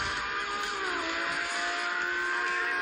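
A car engine in the mobile game Need for Speed: Most Wanted drones steadily at high revs, its pitch gliding up and down, loud and continuous with no talking.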